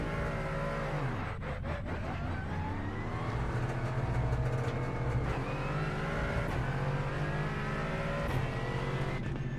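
GT4 race car engine in a racing simulator, a continuous loud drone that rises and falls through gear changes and throttle lifts, with a sharp drop and climb early on and steady high revs after, heard alone without talk.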